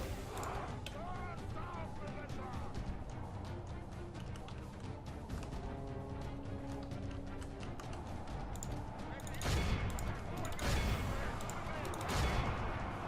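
Troops fire guns in Medieval 2: Total War in a battle, with scattered cracks and bursts of volley fire growing louder toward the end over a busy din of combat, while someone talks throughout.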